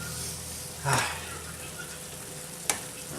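Potatoes, green beans and corn sizzle in a hot frying pan as a utensil stirs through them, with a brief louder scrape near the start and a sharp clink of the utensil against the pan later.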